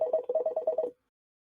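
A telephone rings in a quick warbling burst, several rapid repeating pulses for about a second, then silence.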